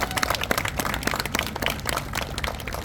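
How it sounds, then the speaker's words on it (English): An audience at a community keynote event breaks into a sustained round of applause, dense overlapping claps filling the room at steady loudness throughout. "So let's give them all a round of applause."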